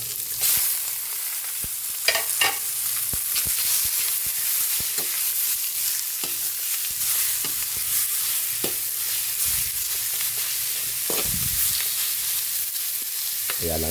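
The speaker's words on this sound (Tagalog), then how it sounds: "Lagay na po natin yung ating karne." Meat sizzles and fries steadily in a hot pan, with scattered scrapes and clinks of a utensil stirring it throughout, close and continuous.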